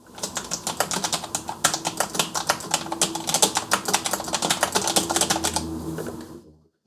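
Rapid typing on a quiet mechanical keyboard, a dense run of soft, close clicks in an irregular rhythm that carries on for most of the span and then stops.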